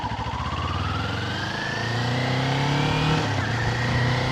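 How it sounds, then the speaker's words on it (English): A Kawasaki Ninja 400 motorcycle engine revs up under throttle, its pitch climbing steadily as it accelerates, fairly close and continuous with no talking. "give it gas."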